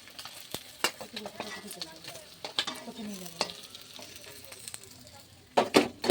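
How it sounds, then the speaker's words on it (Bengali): Snakehead fish frying in a pan, with steady sizzle broken by sharp clatters of a utensil as the pieces are turned and lifted out, growing louder toward the end. "মাছটা আমার ভাজা হয়ে গেছে আমি মাছটা তুলে নিচ্ছি"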